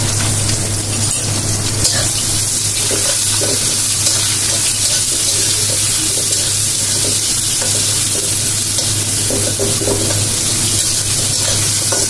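Garlic and spices sizzle in hot oil during tempering for a traditional beef pithali, a loud continuous crackling hiss with a low steady hum underneath, close up.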